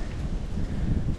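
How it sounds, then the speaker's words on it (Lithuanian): Wind blows outdoors beside a stream during a fishing outing, a steady low roar and buffeting rumble on the microphone that runs continuously through the short stretch. "Bet oras tai šiandieną tai šlikščiausias. Vėjas tas"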